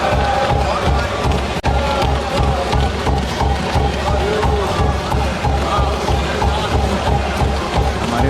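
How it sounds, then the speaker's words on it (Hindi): Parliament members clapping and cheering during a budget speech announcing no income tax up to 12 lakh rupees, a dense steady crowd of applause with thumping desk noise and babble, heard as a played recording. "हमारे मोदी जी की तालियां बजा रहे हैं वहां पे।"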